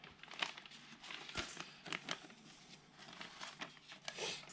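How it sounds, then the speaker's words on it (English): Paper is peeled back from salted ragworm in close, quiet crinkles and soft tearing crackles, a series of short irregular rustles over a few seconds. "I'm going to peel the paper back."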